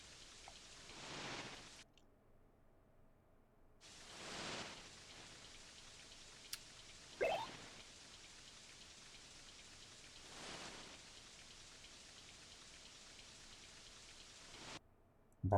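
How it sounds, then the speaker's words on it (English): Rain effect in the SNES fishing game TNN Bass Tournament of Champions: faint, steady hiss of falling rain that swells in several broad washes and fades between them, with no talk over it. "Oh, it's raining lots."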